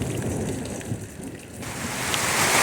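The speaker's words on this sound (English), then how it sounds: "So, it's absolutely bucketing down" Heavy rain pours down hard, a dense, loud, continuous roar of falling water that swells louder toward the end, with no voices.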